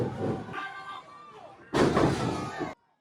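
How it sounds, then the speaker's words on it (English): Heavy thuds of pro wrestlers slamming onto the ring canvas at a Chicago-style wrestling show, two booming impacts with crowd noise and talk mixed in. "To hear sounds and slams like this and see pro wrestlers live"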